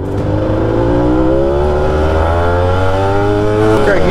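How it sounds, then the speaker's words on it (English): A 48-year-old motorcycle engine running poorly while riding uphill, a close, steady droning whir with shifting pitch that rises slightly toward the end, loud and alone. "the bike's not running as good as it was."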